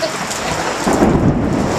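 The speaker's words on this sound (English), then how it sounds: "Geraldo Rivera himself wouldn't brave this storm" Thunderstorm with heavy rain in a staged hurricane weather report, a steady loud wash of rain with a deep rumble of thunder swelling midway, with no voices.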